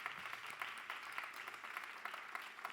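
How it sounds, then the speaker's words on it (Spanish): A church congregation claps together in sustained applause. The dense patter of many hands holds even throughout, heard from a moderate distance. "dale un aplauso a Jesús"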